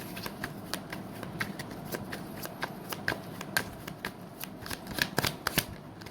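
Tarot cards shuffled by hand, a steady run of crisp riffling snaps and flicks close up, quiet and alone with no talking.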